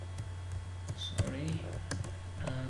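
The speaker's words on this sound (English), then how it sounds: "now I'm gonna type a div with a class of raw" Code being typed on a computer keyboard while building a web page layout, a quick run of close key clicks and taps under a voice talking throughout.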